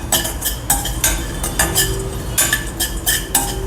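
A metal spoon stirs jamun seeds, cloves, a piece of cinnamon, a few black peppercorns, cardamom pods and a pinch of fennel dry-roasting in a pan, giving close, repeated clinks and scrapes in an uneven rhythm with no talking.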